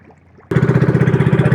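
A boat engine that has gone unused for a long time catches after a short quiet stretch and runs loud and close. It chugs unevenly in a rapid, pulsing rhythm.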